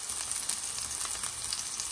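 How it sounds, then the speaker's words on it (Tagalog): Ginger, garlic and chilies frying with curry leaves in a pan, a bright, even sizzle heard up close, continuous and steady for the short stretch with no speech. "And then we'll add the ginger, garlic, and chilies."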